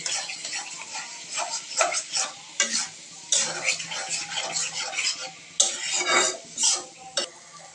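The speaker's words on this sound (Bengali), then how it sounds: "ডিম দিয়ে ভালো করে নাড়াচাড়া করে নিচ্ছে।" Eggs stirred and fried with noodles in a pan, with repeated bursts of spatula scraping and sizzling in an irregular rhythm, close and fairly loud, with brief pauses between strokes.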